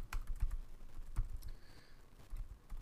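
Faint, sparse keystrokes on a computer keyboard in a quiet room, a handful of separate clicks with irregular pauses between them.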